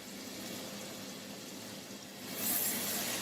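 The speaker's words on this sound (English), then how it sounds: "We want to hear that nice sizzle when we added it into the pan." Chopped onions sauté in a hot pan with a soft, steady hiss of sizzling that brightens and grows slightly louder toward the end. No voices are heard.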